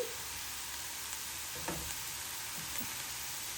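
Bread for a spinach sandwich toasting in a dry pan without butter gives a faint, even sizzle with a few light taps, steady and close.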